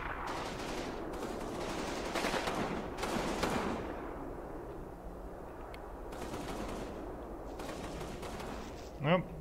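Automatic and rifle fire crackles continuously through a World War II battle at Riva Ridge in the strategy game Combat Mission, a dense mid-distance rattle of bursts under steady background noise.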